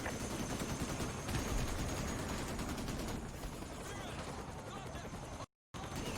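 Relentless gunfire in Call of Duty Modern Warfare 2 Remastered, a dense wall of automatic weapons and blasts that fills the whole stretch, with shouted voices mixed in and a sudden brief cutout near the end.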